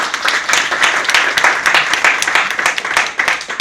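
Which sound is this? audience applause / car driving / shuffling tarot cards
audience applause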